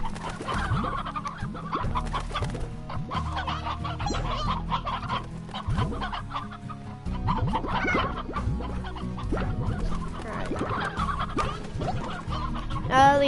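Roosters in the video game Slime Rancher cluck steadily and repeatedly throughout, several birds overlapping at close range in a busy, continuous barnyard chatter with no speech.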